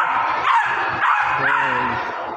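Several dogs bark and yip nearby, a few short whining barks in quick succession with voices faintly underneath.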